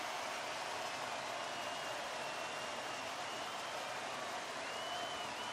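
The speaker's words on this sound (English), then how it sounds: "And the crowd back alive here inside the stadium." A simulated hockey arena crowd in the NHL 23 video game roars steadily and evenly, a faint, constant wash of cheering and applause with no voices on top.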